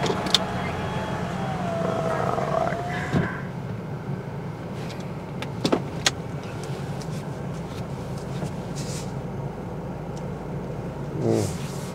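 A car pulls away and drives off close by, its low engine rumble steady and fairly quiet under a few brief clicks and knocks.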